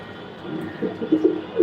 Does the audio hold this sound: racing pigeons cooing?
yes